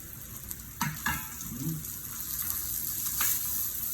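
Food sizzles and crackles softly in hot duck fat, with a few sharp clicks of utensils stirring in the pan.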